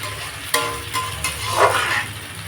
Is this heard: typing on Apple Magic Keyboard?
no